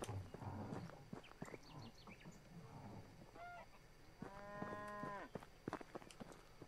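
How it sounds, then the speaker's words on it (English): A cow in the medieval village game Medieval Dynasty gives a couple of drawn-out moos over a soft outdoor ambience with scattered rustles and taps, fairly quiet and close-sounding, with no talking. "The cow goes moo."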